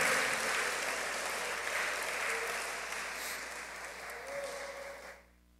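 Congregation at a Spanish-language church service clapping hands together, a dense steady wash of applause that gradually thins and stops abruptly near the end.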